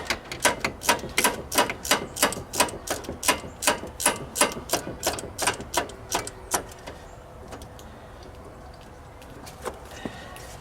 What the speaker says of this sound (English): we're just gonna break that bolt loose.